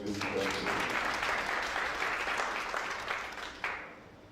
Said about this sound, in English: Let's welcome our mother with a round of applause.